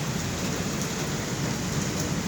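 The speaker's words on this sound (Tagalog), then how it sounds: "It's rain still." Steady rain falls on a cold morning, a dense, even hiss of drops hitting surfaces all around with no break, moderately loud and close.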